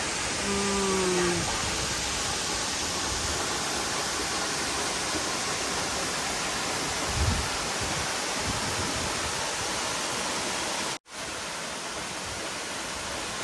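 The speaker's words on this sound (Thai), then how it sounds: "น้ำตกตาดเฮือง สวยงาม" Tad Huang waterfall roars as a loud, steady broadband rush of falling water that holds unbroken throughout, apart from one sharp momentary dropout near the end.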